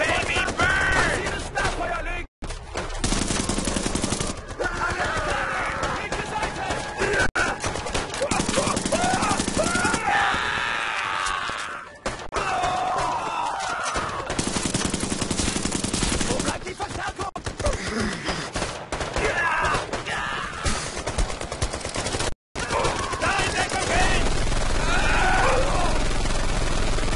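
Gunfire and artillery in a video game battle, heard as a dense, loud, sustained barrage of shots and rumbling blasts, with shouted voices throughout and two brief dropouts.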